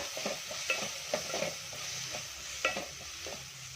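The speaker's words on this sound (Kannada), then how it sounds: "ಈಗ ಚೆನ್ನಾಗಿ ಮಿಕ್ಸ್ ಮಾಡ್ಕೊಳ್ಳೋಣ" A spoon stirs tempering with chili powder in a hot pan for restaurant-style dal khichdi, giving soft scraping strokes over a faint steady sizzle, close and quiet, with no voices.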